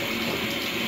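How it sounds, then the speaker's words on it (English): Hot water pours steadily into a bath, making a continuous, even rushing and splashing that holds at the same level from start to finish. "But I'm going to add some more hot water."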